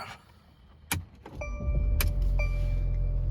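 A 2016 Mercedes-Benz C300 with a 2-liter turbocharged four-cylinder engine: a brief whir and a couple of clicks, then the engine fires up and settles into a steady, close idle hum.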